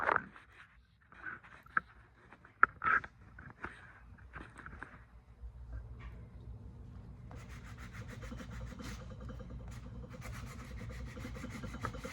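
Scattered scrapes and rubs at first, then a steady, low abrasive grinding of sanding on a stone-finish candle holder, fairly quiet and unaccompanied by talk.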